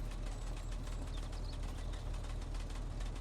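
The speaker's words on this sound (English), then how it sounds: "I left the engine running." A vehicle engine left idling in the military game Arma Reforger, heard as a steady rumbling drone with faint ambient birdsong and no speech.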